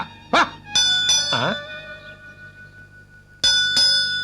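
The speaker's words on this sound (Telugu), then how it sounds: "ఏదో గుడి గంట పడుతుంది" A temple bell clangs with bright ringing strikes and long, fading metallic overtones. A dog barks once near the start and yelps again in the middle, and the bell rings out twice more at the end.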